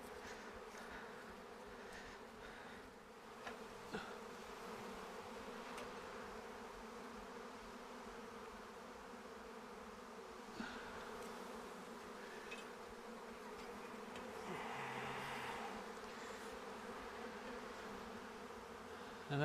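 A dense, continuous buzz of a swarm of about 20,000 honeybees close by, droning steadily with slight rises and falls and no talking.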